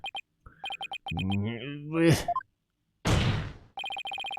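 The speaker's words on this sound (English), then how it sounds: "And I still haven't turned my fucking phone off." A mobile phone rings during a video game recording: repeated electronic ring pulses at start and end, broken by a man's speech and a short loud burst of noise.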